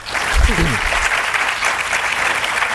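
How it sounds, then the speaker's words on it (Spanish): Loud, dense applause from a conference audience at a Ibero-American journalism meeting, continuous clapping throughout with a brief voice heard near the start. "un aplauso también para Yolanda"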